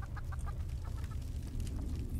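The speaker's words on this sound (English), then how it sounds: "They got chickens! I hear the chickens." Chickens cluck in a steady run of short, repeated calls within the Fallout 76 game world, heard alone over a low background hum.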